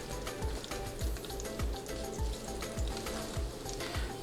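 Garlic and ginger fry in a pan over medium heat, giving a steady close sizzle with regular soft stirring scrapes in a repeating rhythm and no talking.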